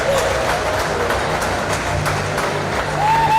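Great Britain fans cheer and clap in the arena at a women's European Championship final in Sarajevo, a broad, continuous crowd roar with scattered applause under a commentator's voice.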